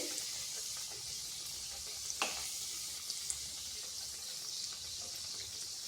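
Suji and yogurt snacks fry in hot oil over slow-to-medium heat, a steady close sizzle and hiss that runs throughout, with a couple of brief pops and clicks.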